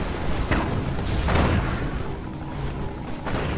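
Juggernaut mobile artillery from Command & Conquer 3 fires in a few heavy booming blasts, one large rumbling explosion near the middle and lighter thumps around it.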